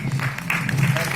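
A brief burst of audience applause at a motivational speech event, close and dense, with a voice speaking over it.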